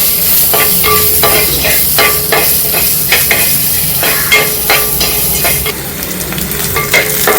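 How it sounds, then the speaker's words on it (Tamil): Peeled garlic sautés in a hot pan for a broad bean and drumstick tamarind curry, giving a loud, steady sizzle broken by repeated clinks and scrapes from stirring. "இதில் இப்போ உரிச்சு வச்சிருக்க பூண்டை போடுறேன். அதுவும் நல்லா வதங்கட்டும்."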